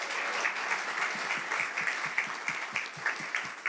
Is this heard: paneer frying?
no